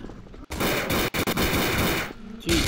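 Dense, loud automatic gunfire rattles almost continuously in the zombie shooter Codename Cure, broken by a few brief gaps and resuming in a fresh burst at the end.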